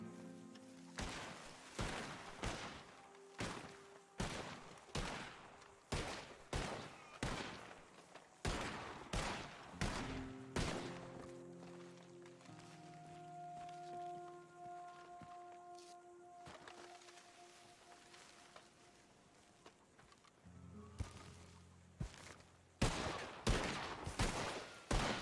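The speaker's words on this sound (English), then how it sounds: "And somebody's down there shooting too." Gunshots in the video game Red Dead Redemption 2 during roleplay: a steady run of sharp cracks, some in quick pairs, mostly a few seconds apart, over a quieter ambient background with soft tones.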